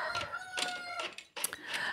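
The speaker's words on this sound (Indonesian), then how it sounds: "dan ayam pun berkokok" A rooster crows in the distance, a faint, drawn-out call heard twice with no talk around it.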